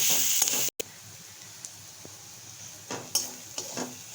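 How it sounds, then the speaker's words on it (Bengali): Mashed ginger and garlic frying with onions in a pan for an egg devil dish: a loud hiss at first, then a quieter sizzle with a few light stirring clinks. "এবার এর মধ্যে আমরা আদা আর রসুন ম্যাশ করে রেখেছিলাম সেটা দিয়ে দেব"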